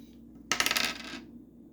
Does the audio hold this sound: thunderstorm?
no